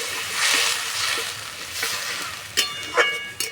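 Potatoes frying in a pan with chili, turmeric and cumin powder while water is poured in, a soft sizzle and bubbling with a few sharper splashes near the end.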